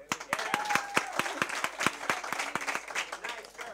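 Audience applause for a volunteer named Cristina at a cramped business creativity and innovation event, with sharp distinct claps ringing out over a softer continuous patter, fairly near and steady throughout.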